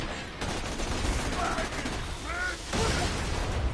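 Gunfire crackles in Borderlands 2, a dense rattle of rapid shots running through the whole stretch against a busy game soundscape. It grows louder near the end, with faint honking, quack-like effects mixed in.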